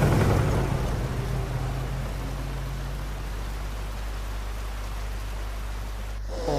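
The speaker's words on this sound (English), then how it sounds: "All that rain sound sounds gorgeous." Steady rain falling in the horror game Resident Evil 2, a continuous broadband hiss with a low rumble underneath, fairly loud and even throughout with no talking.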